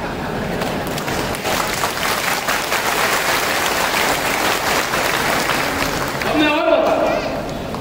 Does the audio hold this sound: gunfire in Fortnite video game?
no